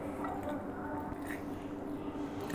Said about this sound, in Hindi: ये तमाम चीज़ें इसमें डालने के बाद हम इसको अच्छी तरह से मिक्स कर लेंगे